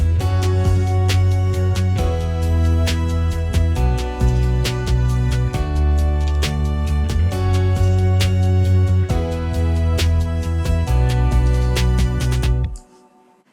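AI-generated strings part, violin-like, layered into a music track in Moises AI Studio, playing steadily and full for about thirteen seconds with regular rhythmic accents before cutting off abruptly.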